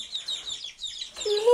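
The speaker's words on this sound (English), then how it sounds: "They're little baby chicks and they're chirping away." Baby chicks give a quick run of high, thin peeping chirps, fairly close, with a brief voice joining at the end.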